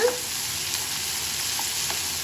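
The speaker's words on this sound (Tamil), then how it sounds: "தக்காளியை வந்து நல்லா வதக்கிக்கோங்க" Tomatoes sautéing in a pan for a garlic and chilli chutney: a steady, close, bright sizzle with a few faint stirring scrapes, continuous and without speech.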